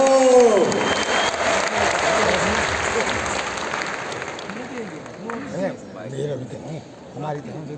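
An audience at an RCM gathering breaks into loud, sustained applause that gradually thins out, with a voice speaking briefly at the start and some murmuring toward the end.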